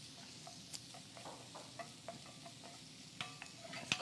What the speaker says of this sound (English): Saute this down.